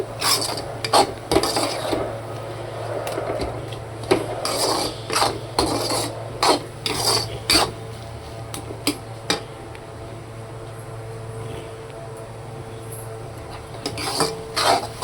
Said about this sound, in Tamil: இப்படி நல்லா கிண்டி விட்டு நல்லா வணக்கி விடணும்.